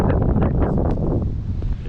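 Gusts of wind buffet the microphone outdoors at night in a town area, loud and close for a short burst.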